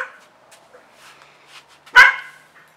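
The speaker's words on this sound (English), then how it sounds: "We got puppies greeting their owners in the neighborhood, and our dogs are hearing them go crazy." Neighborhood dogs and puppies excited by owners arriving home: faint distant yips and whimpers, then one loud close bark, then quiet again.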